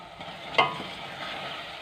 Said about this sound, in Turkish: Biraz kavuracağım.